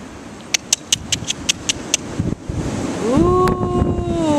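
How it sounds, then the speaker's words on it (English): Strong outdoor wind rushes steadily in gusts, with sharp yelps from four-week-old Vizsla puppies in the first half and a rising whine near the end. "Ooh, what do you think of that wind, guys?"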